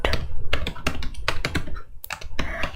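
Someone types on a computer keyboard in quick, uneven bursts of close clicking keystrokes, with short pauses between groups of keys and no talk.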